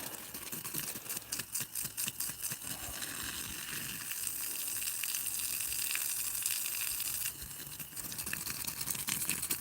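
Water sprays steadily from a garden hose onto a blueberry bush, a continuous hissing, splattering wash at low level with small fluctuations as the stream shifts and no talk.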